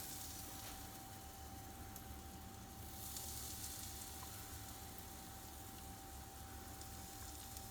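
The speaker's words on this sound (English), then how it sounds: "I'm hoping for a very nice sizzling sound when I start pouring it in." A low, even sizzle crackles steadily throughout, faint and continuous like batter frying in hot oil, with no voices.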